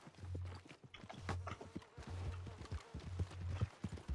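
Horse hooves clip-clopping in the video game Red Dead Redemption II, a steady walking rhythm of soft, close hoof beats at low volume.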